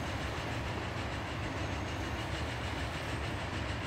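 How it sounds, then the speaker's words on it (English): Trains run steadily in the Transport Fever simulation game, a continuous rolling rumble with rail clatter at moderate level, alone without voices. "Ooh, look at all that train action."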